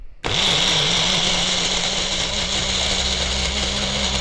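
A mixer grinder starts abruptly and then runs steadily while blending a dry fruit milkshake with milk and sugar, producing a loud, continuous motor whine close by.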